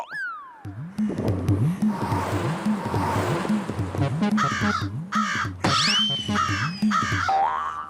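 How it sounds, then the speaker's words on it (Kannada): Cartoon crows caw loudly and repeatedly from nearby in an animated episode, with a string of sharp, harsh calls over a bouncy rhythmic backing. "ಕಾಗೆಗಳಕ್ಕೆ ಇಷ್ಟೊಂದು ಕೂಗ್ತಾ ಇವೆಲ್ಲ"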